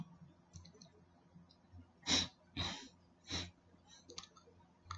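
Three crisp computer mouse clicks sound close together in a quiet room while Nitro Pro PDF software is being opened, followed by a few fainter ticks.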